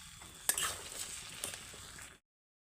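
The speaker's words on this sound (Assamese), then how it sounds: "কেৰাহীটো ইফাল সিফাল কৰি থাকে।" Taro and khasi goat meat stirred in a kadai, with a steady frying sizzle, a sharp scrape of the spatula near the start and a few more clinks before the sound cuts off abruptly.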